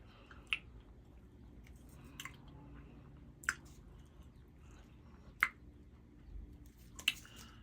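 Someone chewing a chalky Altoid mint, with a few sharp, close crunching clicks spaced several seconds apart over a quiet background.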